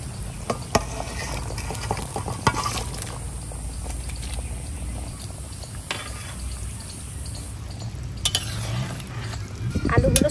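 Fried fish pieces added to a pan with ginger paste and stirred, soft continuous sizzling with scraping and occasional utensil taps, close and moderately loud.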